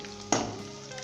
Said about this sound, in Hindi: अदरक और जो सब्ज़ मिर्ची हमने डाली है इसे हम 1 से 2 मिनट तक फ्राई करेंगे